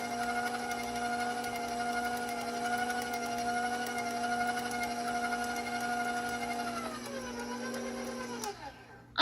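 An electric mixer whirs steadily through chocolate donut muffin batter, a close, even motor whine that slows and drops in pitch as it winds down at the end.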